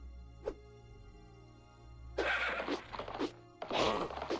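A horse neighs for the elvish rider unit in the fantasy strategy game Battle for Wesnoth: a short clip-clop blip, then a loud whinny in two bursts that repeats after a brief pause.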